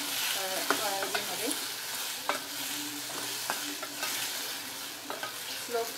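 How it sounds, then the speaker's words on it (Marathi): Mango pieces for gulamba, a sweet and sour mango pickle, sautéed in a pan, giving a steady broadband sizzle with repeated scraping stirs across the whole stretch, close and moderately loud, with no voices. "छान परतून"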